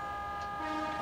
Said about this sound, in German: wenn ich länger die Hupe gedrückt habe, kriege ich einen anderen Sound raus